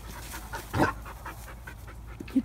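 A dog pants in quick, soft, rhythmic breaths close by, with one louder huff partway through and a faint whimper near the end.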